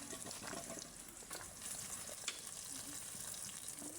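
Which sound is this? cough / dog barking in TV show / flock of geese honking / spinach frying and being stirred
spinach frying and being stirred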